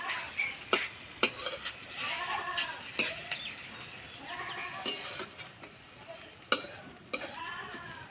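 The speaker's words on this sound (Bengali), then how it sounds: "অল্প তেলেই ভাজা হয়ে যায়" Pointed gourd fritters fry in a little oil in a village kitchen, a steady soft sizzle broken by sharp clicks and scrapes of stirring at irregular moments, close and alone with no talk.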